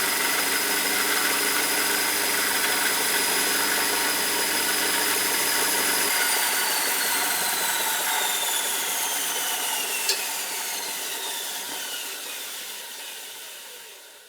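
Belt sander running a 600 grit belt while sharpening an antique drawknife blade, a steady loud motor whine with belt hiss, the tone shifting partway through as the blade meets the belt, tapering off at the end.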